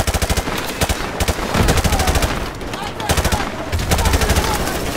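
Loud, fast automatic gunfire in the shooter Call of Duty: Modern Warfare Remastered, rapid repeated bursts of rattling shots with brief gaps, under faint talk.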